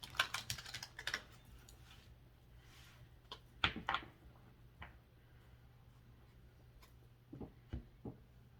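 A deck of tarot cards is shuffled in quiet, soft bursts of flicking and riffling, with irregular clusters of taps and pauses between them, close to the listener with no speech.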